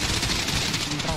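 Rapid automatic gunfire in a GTA V role-play game bursts out close and loud in a dense rattle, mixed with a voice talking over it.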